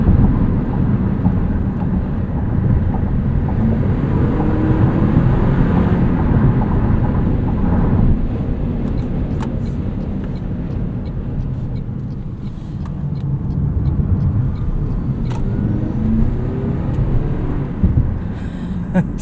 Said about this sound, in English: That's great acceleration there. And that's coming from both the battery and the gasoline motor.